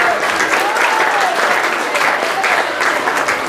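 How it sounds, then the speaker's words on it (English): Loud, steady audience applause at an outdoor Fourth of July festival concert, dense clapping from a crowd with some cheering mixed in, continuous throughout. "let's give them a little bit of applause"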